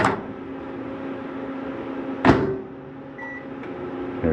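A microwave oven runs in a 2020 R-Pod 189 camper trailer, a steady mid-level hum and whir broken by a single sharp click or door thud partway through, with a faint tone near the end.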